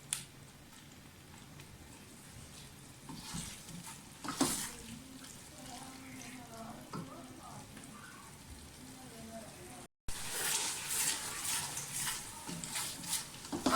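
Potatoes frying in oil and being stirred in a pan, a soft continuous sizzle with occasional scraping clatters from the utensil, a brief dropout partway, then a louder sizzle.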